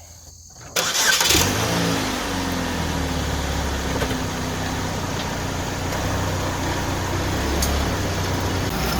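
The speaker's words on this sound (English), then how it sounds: "You hear all that rattling, creaking, crackling." Worn wheel bearing on a 2011 Chevy HHR, the car raised about an inch off the ground, a sudden onset then a steady rumbling, rattling mechanical noise with engine drone that continues close and loud throughout.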